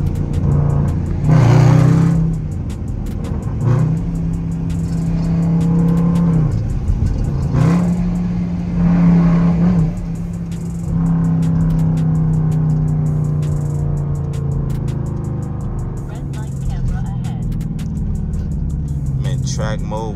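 An SRT Jeep engine revs repeatedly in sharp bursts during a spin out, rising and falling in pitch, loud and close, then settles into a steadier drone.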